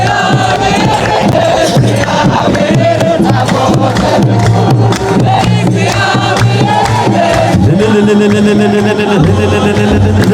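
Dense crowd at an Ethiopian Orthodox church festival for Asteryo Maryam, with loud, sustained ululation and rhythmic clapping over chanting voices, continuous and close throughout.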